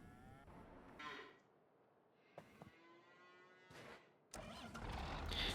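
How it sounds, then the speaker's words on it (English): A tractor engine in a farming simulator game cranks and catches in short bursts separated by quiet gaps, then settles into a louder steady rumble near the end. "Start the engine."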